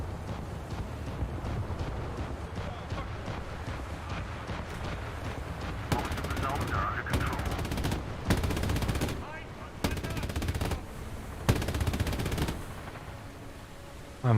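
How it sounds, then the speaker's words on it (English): Russian 23mm anti-aircraft guns in a naval battle game rattle off several rapid bursts, loud and fairly near, over a steady background rumble of the boat and wind. "This is the Russian 23mm guns, you know, the anti-air guns."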